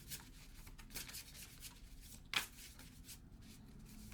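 Oracle cards being shuffled at close range, a soft continuous papery rustle in quiet surroundings with one brief sharper snap of cards near the middle.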